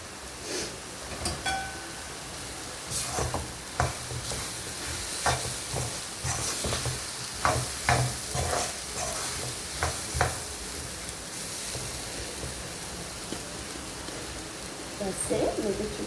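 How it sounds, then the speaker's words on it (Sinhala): Green chillies and curry leaves stirred into a hot frying pan, giving a steady sizzle with scattered scraping clicks of the spoon throughout. "ඊට පස්සේ මේකට අමු මිරිස් ටිකක්, සම්ප කරපිංචි ටිකක් හොඳට එකතු කරමු."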